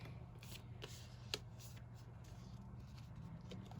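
Tarot cards being shuffled give soft, quiet papery riffling and sliding strokes, with one brief tap partway through, close and low in level.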